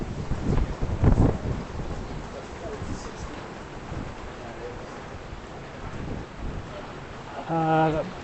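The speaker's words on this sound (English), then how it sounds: "Okay, the rain's coming in horizontally." A constant roar of typhoon wind-driven rain, coming in horizontally, with gusts filling the air, buffeting bursts and a short voice near the end, at Victoria Harbour, Hong Kong.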